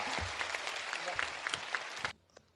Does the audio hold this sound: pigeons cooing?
no